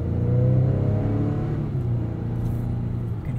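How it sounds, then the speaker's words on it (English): Steady engine and road drone from a 2021 Acura TLX A-Spec SH-AWD cruising on 19-inch wheels, a smooth continuous low rumble with a faint rising hum and no speech. "You can hear there just the smoothness of the powertrain."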